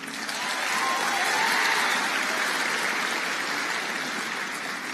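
A conference crowd gives a round of applause for Omaha High School, a continuous wash of many hands clapping that swells and holds steady like rushing rain, with no clear individual claps.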